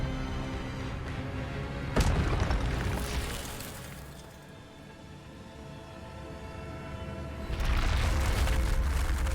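Spell-casting in the Hogwarts Legacy video game: loud whooshing magical bursts with booming impacts, one sharp blast early, a swelling rush, then another surge near the end, with no voices.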